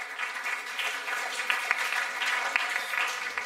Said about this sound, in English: Let us now give warm round of applause to our distinguished alumni